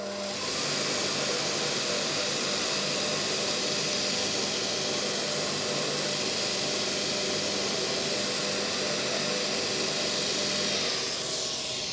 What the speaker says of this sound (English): And we'll give him a once on the buff.